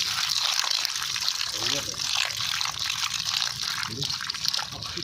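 A potato is rinsed under running water at a kitchen tap while making a banana-flower and tilapia fish dish. A steady, close hiss and splash of flowing water runs throughout, with faint voices underneath.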